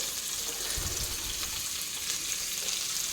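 Amaranth greens (harive soppu) roast in a pan for bolu huli, giving a steady, close hissing sizzle with occasional faint stirring scrapes, uninterrupted and without any talking.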